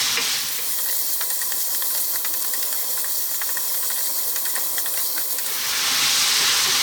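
Chopped onion frying in a pan over fairly lively heat for a vegan potato curry, a steady loud sizzle and hiss with crackling pops, fading briefly then swelling again near the end.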